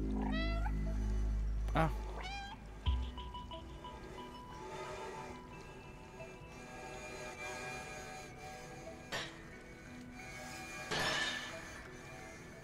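A cat meows repeatedly in the adventure game Stray, several clear rising mewls near the start followed by scattered thuds and game ambience, with a brief spoken exclamation.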